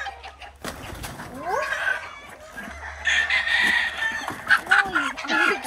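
Three purebred white Kelso pullets cluck and squawk nearby in bursts of close, loud, agitated calls, with rustling and handling noises between them.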